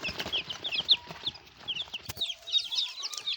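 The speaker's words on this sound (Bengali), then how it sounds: "দেখুন বন্ধুরা, বাচ্চা কীভাবে আসে মুরগির।" Young broiler chicks kept in a basket peep in rapid, high, overlapping chirps, close and continuous, with occasional clucking and a brief knock partway through.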